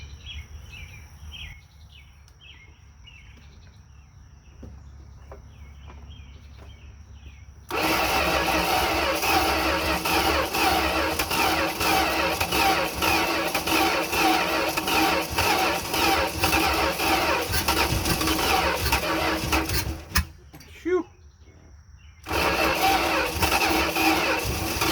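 An abandoned 1971 Dodge D100 pickup that sat for 34 years cranks over and then catches, its engine roaring loudly and close for about twelve seconds, cutting out briefly and then firing again, with birds chirping faintly during the quiet moments.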